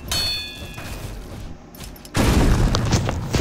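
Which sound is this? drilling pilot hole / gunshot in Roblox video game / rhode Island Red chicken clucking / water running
gunshot in Roblox video game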